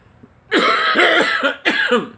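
Loud, close coughing: one long, harsh, hacking fit followed quickly by another shorter, wheezy cough.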